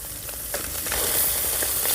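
Small river fish frying in mustard oil as they are turned over, a close steady sizzle with a few soft scraping and clattering touches.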